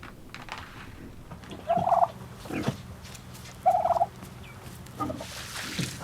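Domestic turkeys in a rural village in the Perm taiga gobble at feeding time, two loud rattling gobbles a couple of seconds apart plus a fainter third, over quiet background noise.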